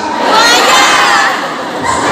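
A large audience at an Islamic sermon gathering shouts together in one loud, sustained roar of many voices, close and dense throughout.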